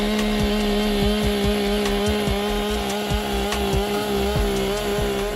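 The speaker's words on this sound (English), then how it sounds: "When we hear the sound of the chainsaw and feel the vibration when sawing wood," A chainsaw cuts through a large tree with a loud, steady engine drone and rapid rhythmic rasping that continues throughout, close by and with no voices.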